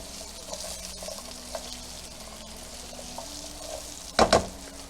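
Vegetables fry in oil for coconut curry shrimp with a soft, continuous sizzle, broken near the end by a brief, louder clatter of stirring.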